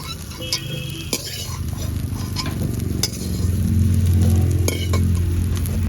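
Fried soybean chunks are stirred in hot oil in a pan, with a steady sizzle under scraping and clinking utensil strokes as the chunks are lifted out.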